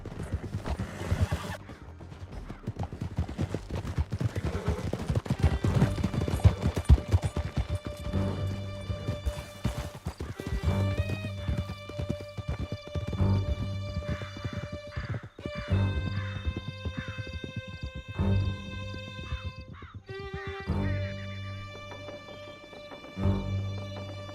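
Horses gallop through a canyon in the video game Red Dead Redemption 2, rapid rhythmic hoofbeats thudding steadily under sustained orchestral music, with clattering and occasional snorts throughout.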